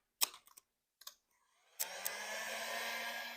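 A heat gun blowing on vinyl wrap film stretched over a car mirror edge: a few sharp clicks and handling sounds, then a steady, close whooshing blower hum that starts and continues to the end.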